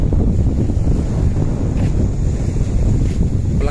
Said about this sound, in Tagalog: Medyo malakas talaga yung alon dito.